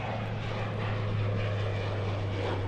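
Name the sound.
airplane taking off at the airport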